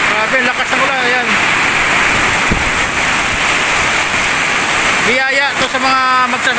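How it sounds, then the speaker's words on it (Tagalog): Heavy rain pours down steadily in a broad, constant wash on a very dark day in the Philippines, loud and continuous, while someone talks over it at the start and end. "Grabe, lakas ng ulan."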